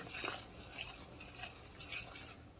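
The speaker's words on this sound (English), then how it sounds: "Give it a stir" A spoon stirs Jamaican brown stew chicken in a pot, giving faint, soft scraping and swishing strokes that repeat in a loose rhythm at close range, with no talk.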